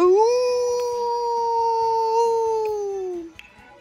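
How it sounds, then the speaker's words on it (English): A Sims character lets out a long, loud howl in a video game, a single sustained tonal wail that holds steady for about three seconds before sliding down and cutting off, with no talk over it. "you go ahead and just howl all you want"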